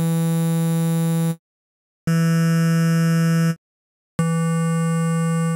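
Static synthesizer waveform tones that never change, played as three sustained buzzy notes at the same pitch with silent gaps between them, loud and steady, with no talking.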